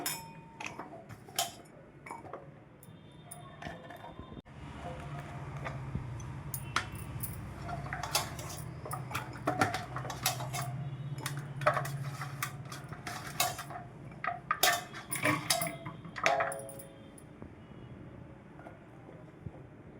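Four glasses of raw mango pieces tipped into a mixer jar that already held ginger paste for a pickle, a long run of close clattering taps and clinks, denser toward the middle and then tapering off.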